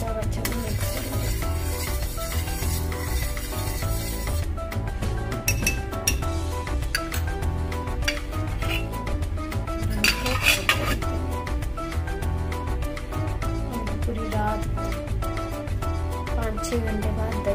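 Milk being stirred into a bowl with a spoon to set curd, the steady clinking and scraping of metal against the dish continuing throughout, with a voice talking over it.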